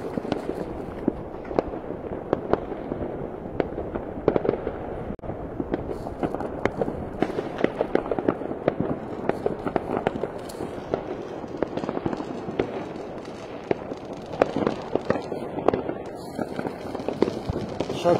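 New Year's Eve firecrackers explode across a city in a dense, irregular barrage of sharp cracks and bangs, some close and loud, others distant, with no letup throughout.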